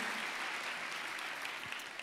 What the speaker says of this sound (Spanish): Démosle un aplauso al Señor de la gloria.